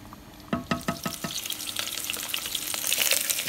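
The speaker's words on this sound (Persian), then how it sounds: "داخل ظرف کمی روغن ریختم و فیله همون رو داخل سرخ میکنیم" A beef fillet frying in oil in a pan gives a steady sizzle, with a quick run of clinking stirring or utensil knocks near the start and the hiss growing louder toward the end, no talking.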